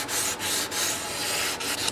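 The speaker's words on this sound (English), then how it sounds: "I'm just trying to keep all of my sanding on the binding so I'm not turning up any more red." Abrasive paper rubs steadily over the wooden binding of a custom 12-string dreadnought guitar, a close, continuous scratchy hiss with a few brief breaks in the strokes.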